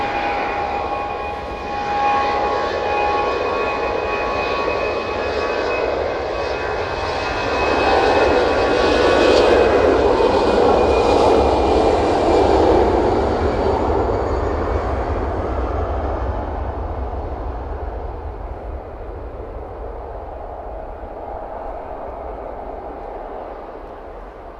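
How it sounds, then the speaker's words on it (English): A Swiss airliner departs Manchester Airport bound for Zurich, its engines building to a loud, sustained roar that swells mid-way and then slowly recedes into the distance, with no talk over it. "And Swiss heading out."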